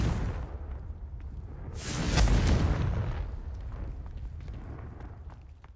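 A Confringo blasting spell from Hogwarts Legacy erupts in a single loud, booming burst with a whooshing fiery rush that peaks and then fades slowly into a rumbling tail.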